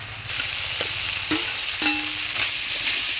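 Fried potatoes being stirred into spiced jackfruit in a pan for a vegetarian Bengali village curry, a steady low sizzle with a few scraping stirs, close and moderate in volume with no voices.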